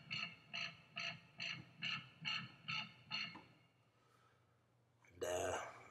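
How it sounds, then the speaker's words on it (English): Dubstep wobble bass pulsing in eight even rhythmic throbs, followed by a brief quiet gap and a loud, harsh, gritty burst. "Today we're going to be working on a dubstep wobble bass."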